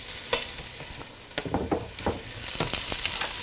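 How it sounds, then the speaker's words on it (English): Carrots and onions sizzle as they fry in a pan, with a wooden spatula stirring through them in several scraping strokes over a steady soft frying hiss, close and moderately loud. "with my trusty wooden spatula, I'm going to give that a little stir"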